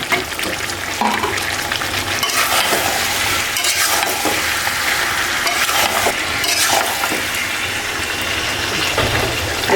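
Potatoes stirred into a loud, frying spiced masala in a pot, a dense continuous sizzle with repeated scraping strokes of the spoon, close and steady throughout.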